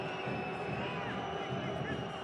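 A solid Saturday-evening crowd at an El Paso Locomotive FC versus LA Galaxy II soccer match sends up a continuous roaring murmur of displeasure, heard under a commentator's talk.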